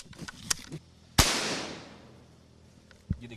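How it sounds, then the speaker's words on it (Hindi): A single loud gunshot cracks at a guarded Republic Day security post and echoes away, with a few fainter pops before and after it. "देखिए लगातार फायरिंग यहाँ पर चल रही है।"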